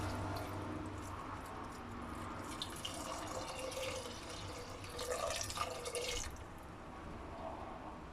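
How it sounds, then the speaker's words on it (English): Steady splashing water being poured into a pressure cooker, a continuous liquid gush that grows a bit louder in the middle before easing off. "Add 2 cups of water."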